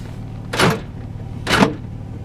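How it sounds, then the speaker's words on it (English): Power door locks on a Nissan Pathfinder actuating, two sharp mechanical clunks about a second apart, close and loud over a quiet background. "The power door locks also work."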